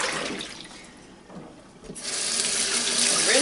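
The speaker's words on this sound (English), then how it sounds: "Alright, now dump the water." Water poured out of a bowl used for washing raw alpaca fiber splashes into a sink, a brief dip in the middle, then a louder, steady rushing gush building toward the end.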